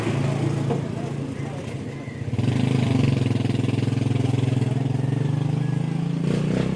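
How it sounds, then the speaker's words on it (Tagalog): Borrowed motorcycle engine idling and then revving up on a Philippine street, a close, steady buzzing drone that grows louder midway, with people talking over it. "Nanghiram kaming motor."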